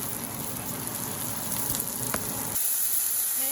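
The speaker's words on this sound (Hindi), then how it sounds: "अब मैं दाल का तड़का बना रही हूँ।" Steady crackling sizzle of hot oil in a pan as a dal tempering is made, continuous and close, with a brief change in texture near the end; no voices.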